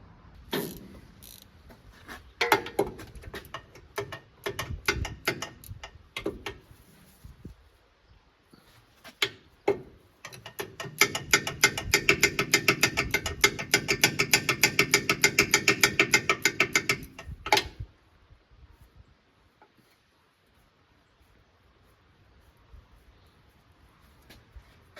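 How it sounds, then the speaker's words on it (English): A ratchet wrench clicks rapidly and steadily while loosening the oil drain plug on a Kawasaki Mule SX utility vehicle, reached through an access hole. A long run of close mechanical ratcheting follows scattered knocks and scrapes, then the work goes quiet. "I'm going to use a ratchet wrench through this hole here"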